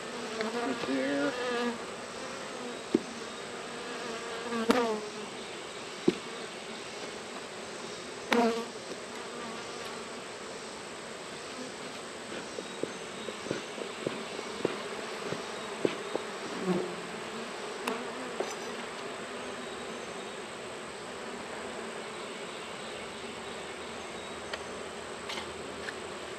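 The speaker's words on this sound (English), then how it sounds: "And they're just busy bees." Honey bees buzz steadily around an open beehive during an inspection, a dense, continuous drone of many insects close by with occasional louder passes as individual bees fly near.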